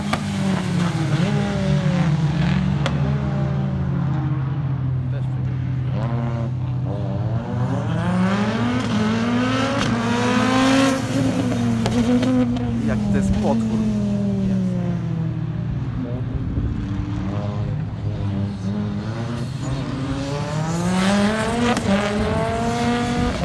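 A rally car with a boxer engine revs and snarls at a classic motoring rally show at Modlin in 2021. The engine pitch rises and falls repeatedly over a continuous low drone, loud and sustained, with faint crowd noise and voices underneath.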